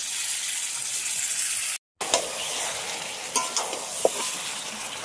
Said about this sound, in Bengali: মশলার সাথে ভালো করে মাংসটা মিশিয়ে নেব